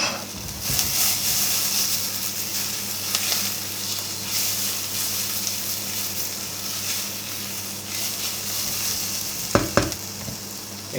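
Caramelising onions frying in a pan for a lentil and butternut squash curry, a steady close sizzle with occasional stirring scrapes and a couple of sharper clinks near the end.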